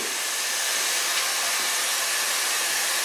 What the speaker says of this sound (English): Start blow drying this with a light brush and then free it with my hands.